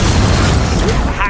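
A loud, low fiery blast from the Confringo spell in Hogwarts Legacy, a heavy boom filling the moment, with a voice-like sound briefly cutting in near the end.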